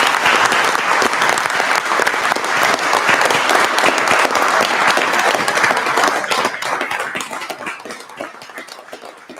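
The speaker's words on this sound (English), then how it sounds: "You all deserve a very loud and proud round of applause." A crowd at a county board of supervisors meeting breaks into loud, sustained applause with dense overlapping claps, fading gradually toward the end.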